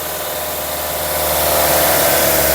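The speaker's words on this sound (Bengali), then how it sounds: "এই যে ইঞ্জিনটা স্টার্ট দিলাম" A Toyota Premio Allion car engine idles steadily right after starting, a close, even rumble that grows slightly louder partway through.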